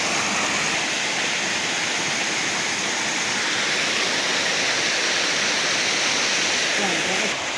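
A large waterfall pours into the pool where crabs are caught below it, giving a loud, steady, broadband roar of falling water that runs unbroken from start to finish.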